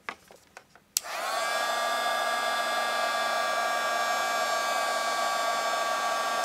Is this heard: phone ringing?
no